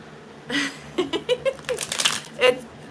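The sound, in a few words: shuffling playing cards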